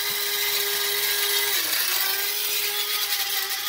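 An electric coffee grinder whirring through sunflower and sesame seeds, a loud continuous high-pitched grind with a brief dip in motor pitch midway, no voices.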